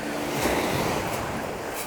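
Mediterranean sea waves wash onto Kemer beach near Antalya, Turkey, in the evening. The surf rushes close by in a continuous, loud wash, with light wind noise over it.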